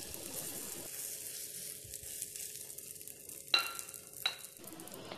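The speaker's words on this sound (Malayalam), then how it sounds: "മുട്ടയുടെ മിക്സിലേക്ക് ഡിപ്പ് ചെയ്തിട്ട് നമുക്ക് പാനിലിട്ട് കൊടുക്കാം." Steady, gentle sizzle of egg-dipped attippathal shallow frying in a ghee pan, with two sharp clinks partway through and soft stirring noises.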